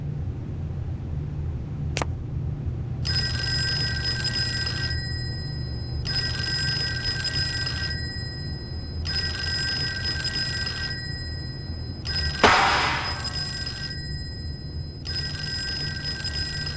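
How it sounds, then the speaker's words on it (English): A telephone rings in a creepy hallway horror game, Fork Road: five repeated bell bursts of about two seconds each with short gaps, clear and steady over a low ambient hum, with a sharp thud near the fourth ring. "But the phone just rang."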